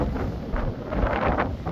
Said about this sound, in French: Le vent d'est est en train de se renforcer à l'approche de la ligne de grain